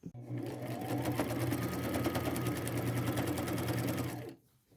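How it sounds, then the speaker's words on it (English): Straight-stitching thrifted men's neckties onto a jean jacket, a sewing machine hums in one steady, close, rapid run for about four seconds before stopping abruptly. "I'm going to follow those all along, all the way to the end with a straight stitch"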